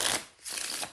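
A deck of playing cards being shuffled, two quick close riffling bursts of crisp flutter separated by a brief pause, with no talk.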